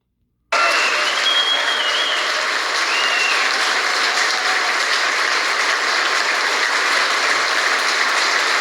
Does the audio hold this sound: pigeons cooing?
no